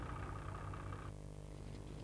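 Tractor hauling sacks of grain in a 1960s Aegean town, its engine idling and chugging in a steady low rumble, faint and continuous with no voices.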